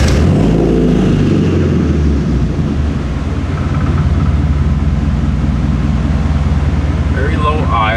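A car engine just after starting runs at a very low, shaky idle, a loud rough rumble that holds steady throughout while people talk over it.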